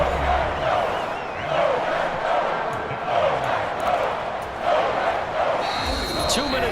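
Stadium crowd roaring in Madden NFL 25 during a Lions football game, a steady dense wash of cheering that swells and dips in waves throughout, with a faint high whistle-like tone near the end.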